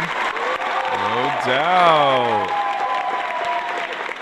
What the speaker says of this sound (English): can we give them applause for them?